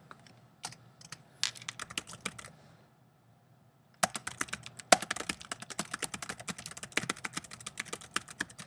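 Rapid bursts of keys clattering on a computer keyboard while entering text, close and clear, with a short pause near the middle before a denser, steady run of keystrokes.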